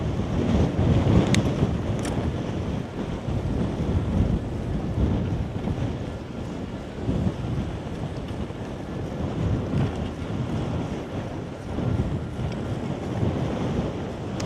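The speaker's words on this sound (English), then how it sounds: "now we're riding into a headwind" Steady wind roars and buffets a microphone on a bicycle heading into a headwind on a touring ride near Muhu, Estonia, as a continuous broadband rush with no talk.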